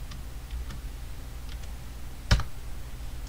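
A few soft computer keyboard taps entering a timecode, followed by one louder, sharper keystroke for enter, close and isolated in a quiet room.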